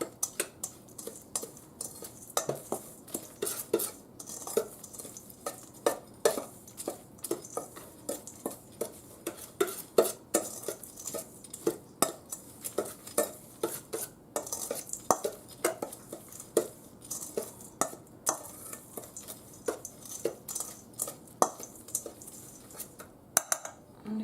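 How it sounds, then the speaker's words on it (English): Utensils scrape and clink steadily in a bowl as ground chicken patty mixture is stirred together with panko, seasonings and flour, a fairly faint, rhythmic series of taps and scrapes with no talking. "I'm just mixing it all up, making sure it's all incorporated."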